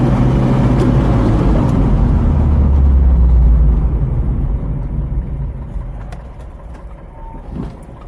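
A 1981 Bedford CF van drives on an open road, picking up speed toward 90 km/h for a braking test. Its engine makes a loud, heavy, continuous rumble that eases and fades in the second half.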